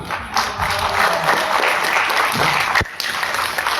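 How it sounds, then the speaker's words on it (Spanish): An audience claps together at an exercise-style talk on ancestral foods, a dense, loud burst of applause filling the whole stretch with a brief dip near the end. "Muy bien, y ahora sí aplaudimos, vamos a aplaudir."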